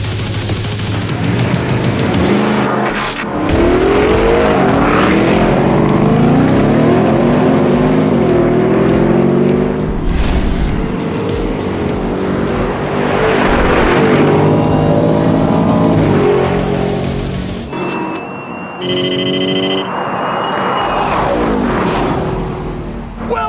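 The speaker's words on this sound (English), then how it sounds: "The Mercedes front end gets light on the launch, but the longer wheelbase Raptor just leaves the AMG for dead" Drag race launch between a Mercedes-AMG G-Wagon and a Ford Raptor, loud engines roaring and revving close by, with rising gear sweeps and a brief tire squeal, no talk.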